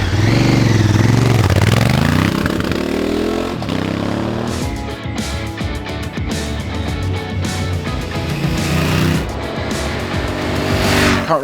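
A 2016 Honda Africa Twin motorcycle accelerates hard on a dry road under traction control, loud engine note rising and falling through gears with wind roar, close and steady, no talking.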